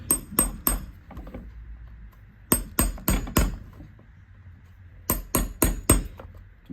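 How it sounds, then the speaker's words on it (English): Hammer blows driving a punch to knock old nails out of the heel of a Crockett & Jones shoe, struck in three tight bursts of three to four sharp metallic knocks, close and loud, with quiet pauses between. "as long as we just punch them out now with a punch."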